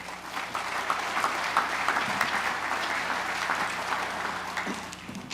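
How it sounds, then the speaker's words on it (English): Steady audience applause at a Space Florida event announcing Blue Origin's move to Cape Canaveral, a dense, even wash of many hands clapping that holds at full strength throughout before easing slightly near the end. "Ladies and gentlemen, your applause, please, for a valued Space Florida partner"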